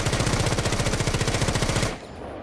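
Sustained rapid automatic rifle fire in Rainbow Six Siege, a loud, dense rattle of shots for about two seconds that cuts off abruptly, leaving a quieter game background.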